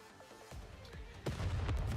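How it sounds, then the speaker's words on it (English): A missile launches and explodes in the Nikke video game, heard as a dense rumbling blast that swells into loud, sustained low booming and crackle. "Vesti launches another missile."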